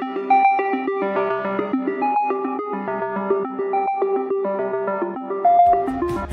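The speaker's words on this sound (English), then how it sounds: "this is my custom timer sound." A custom GNOME Clocks timer sound: a bright electronic melody of short repeating tones in a steady bouncing rhythm, clear and close, playing alone for several seconds.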